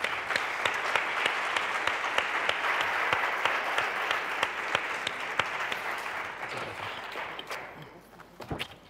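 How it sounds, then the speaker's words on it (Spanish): An audience applauds at a professional information management conference, steady sustained clapping at moderate volume that thins out and fades toward the end with a few last claps. "os pido un aplauso para ellos."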